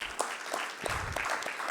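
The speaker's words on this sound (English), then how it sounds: "a round of applause for everyone in the room" A conference audience applauds in a dense, steady wash of clapping from many hands, with a few sharper individual claps standing out, sustained throughout at moderate loudness without voices.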